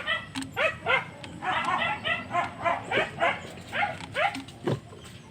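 A dog barks repeatedly outdoors in a steady run of about a dozen short, close yaps, with a faint whimper among them.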